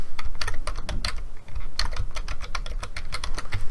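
Someone types quickly and steadily on a computer keyboard, entering a name while setting up a SQL Server database, with dense, close key clatter and one short pause partway through.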